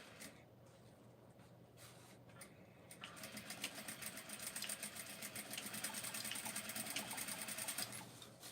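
A sewing machine runs over strips of tulle, starting with a few short stitching bursts and then settling into a steady, fast, rattling run close by before it stops.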